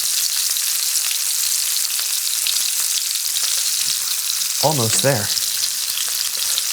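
Steaks sear and are basted in a hot pan with a loud, steady sizzle throughout, and someone speaks briefly near the end.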